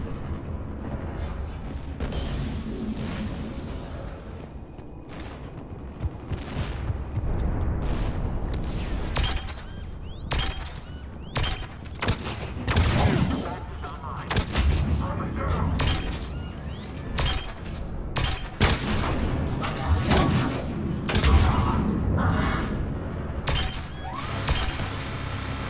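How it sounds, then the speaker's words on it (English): Dense in-game gunfire from Mass Effect Legendary Edition: a stream of sharp pistol shots and impacts over a rumbling battle backdrop, loud and close, with some bursts crowding together and no clear gaps. "This little pistol is so goddamn good. It damages them a little bit on the first initial shot"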